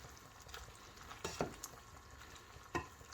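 Stirring a dish of fresh broad beans with minced meat in a pot, with a few faint scraping knocks of the spoon against the pot over a soft sizzling simmer, quiet and close.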